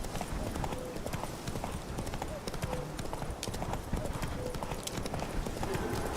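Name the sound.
horse Roach galloping hooves in video game Witcher 3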